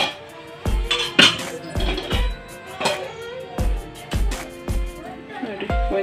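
A metal spoon clinks and knocks against a bowl while cumin seeds go into wheat flour dough for Mangalore buns, a series of sharp, close, regularly spaced taps and rings.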